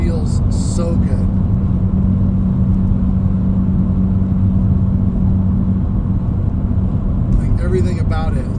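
A 2007 Honda Civic Si with a cold air intake and muffler delete drones loudly and steadily, its engine holding a constant rumble close to the listener throughout.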